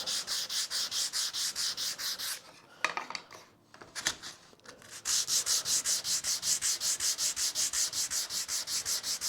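Steady back-and-forth sanding on a small wooden backplate: loud, even rhythmic strokes that pause briefly for a few scattered rubs and taps, then resume at the same brisk pace, with no talking.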